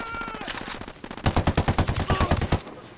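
Rapid automatic gunfire in a Ghost Recon Wildlands firefight, a loud, close burst of about a dozen evenly spaced shots after softer shooting and game sound.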